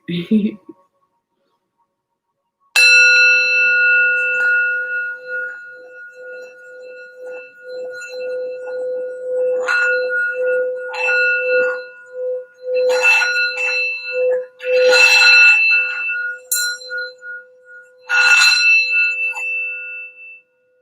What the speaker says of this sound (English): I have a sound bowl here just so we can focus our energy